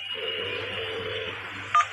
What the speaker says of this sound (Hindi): ऑफिस प्रीमिसेस के बाहर पान वाले के पास खड़े होकर उसने गायत्री को कॉल किया।